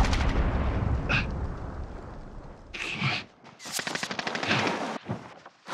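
Gunfire in the video game Warzone, with bursts of automatic weapon shots and sharp rapid cracks in clusters separated by short pauses, loud and close.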